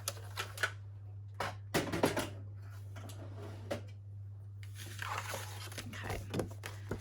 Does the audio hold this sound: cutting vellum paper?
yes